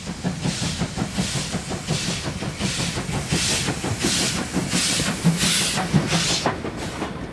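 A steam locomotive shunts at Schelklingen station, giving off a steady rhythmic chuffing of hissing steam bursts over a low, rumbling rolling sound, close and continuous.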